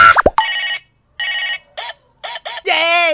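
A telephone rings in loud bursts of harsh electronic trilling separated by short pauses, with brief sharp squeals near the start and a voice that breaks in at the end.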